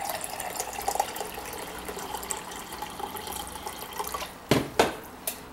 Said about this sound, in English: This is again filtered water.